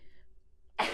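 A single short, explosive sneeze bursts out near the end of a quiet moment, loud and close.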